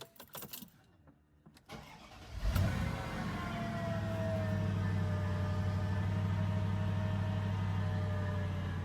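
A Mercedes R230 with a relatively new battery, left standing for two weeks, cranks briefly after some quiet handling noises, then catches and settles into a steady, even idle that runs on close and continuous.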